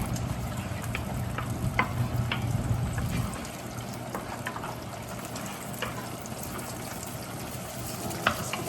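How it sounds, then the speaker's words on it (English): Shallots frying in cooking oil, a steady soft sizzle that is louder for the first three seconds and then drops to a quieter, even crackle, with a few small clicks and pops scattered through it. "All I'm going to do is fry up the shallots."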